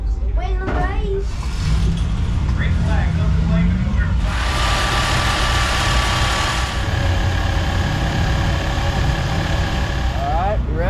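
A race car engine at Swainsboro Raceway catches after a starter repair and settles into a loud, steady rumbling idle up close, with voices talking over it.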